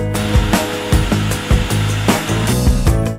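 Food processor pulsing kamut flour pie dough with avocado oil, a loud run of short, repeated whirring bursts in a steady rhythm, heard alone without speech.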